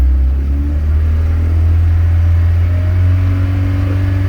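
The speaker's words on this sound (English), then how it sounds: "So rev it up, gives it more spark." A Jeep engine revs up during a spark advance test, a loud, close, sustained low rumble that holds steady without any talk.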